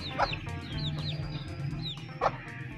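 Desi hens on a home farm cluck and call close by in a busy, overlapping chorus, with a couple of sharper squawks and faint bird chirps mixed in.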